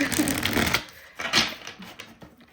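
A deck of cards is riffled and shuffled in quick rustling bursts, fairly loud and close, with a brief pause between flurries.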